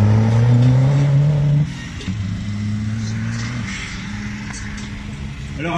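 A Peugeot 205 hill-climb car with a swapped 2-litre turbo engine roars close by at high revs, then drops to a lower, steadier drone as it pulls away, loud and with no voice over it.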